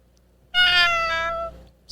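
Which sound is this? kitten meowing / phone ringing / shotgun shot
kitten meowing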